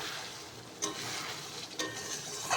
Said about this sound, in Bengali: এই দেখো সর্ষে আর পোস্তটা দিয়ে হালকা করে একটু নেড়ে ছেড়ে দেবো